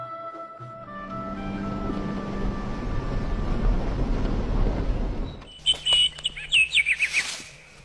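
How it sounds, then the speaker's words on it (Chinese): Birds chirp and call in a mountain forest, with scattered bright tweets standing out clearly near the end after a stretch of steadier background sound. "林间鸟叫虫鸣"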